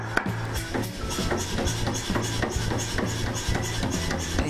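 A power hammer forges Damascus steel with rapid, evenly spaced heavy blows, about four strikes per second, loud and close over a low mechanical drone.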